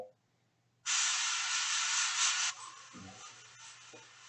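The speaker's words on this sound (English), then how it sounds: "basically spraying sideways down the row of feathers" Airbrush spraying white paint onto the feathered wings of a Sanguinary Guard miniature, a loud steady hiss that starts abruptly, holds for about two seconds, then drops to a softer continuous spray with small clicks and shifts.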